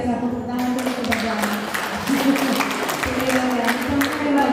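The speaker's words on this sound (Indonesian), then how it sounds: "Tepuk tangan dulu kepada" Applause from the audience at a change-of-command ceremony for the Indonesian navy women's corps association, with dense, steady clapping lasting throughout, mixed with crowd noise and some voices.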